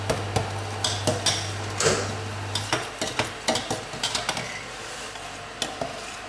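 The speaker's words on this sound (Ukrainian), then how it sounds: "Тепер беремо це, помішуємо, щоб масло розтопилося." Flour mixture stirred in a pan as butter melts, with a steady background sizzle and a string of distinct scraping clacks of a utensil against the pan, close and clear.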